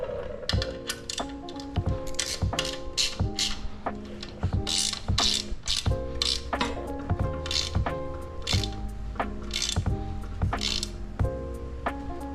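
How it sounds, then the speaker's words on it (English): A ratchet drives Allen countersunk screws on a 72V Razor MX650 build, clicking in quick bursts of sharp pawl ticks separated by short pauses, close and clear. "And now we'll run our Allen countersunk screws through."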